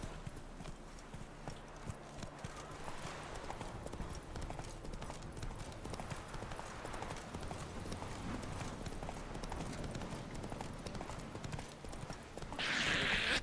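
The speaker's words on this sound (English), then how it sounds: "Canter and not dismount, thank you." Horse hooves cantering in The Witcher 3 video game, a steady rapid clip-clop rhythm running throughout, with a brief whinny and a burst of louder noise near the end.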